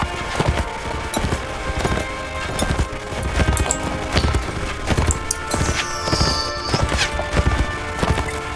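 Horse hooves pound in quick repeated clip-clop beats during a medieval battle in Mount & Blade: Warband, loud and close, mixed with clashing effects and a brief whistling tone.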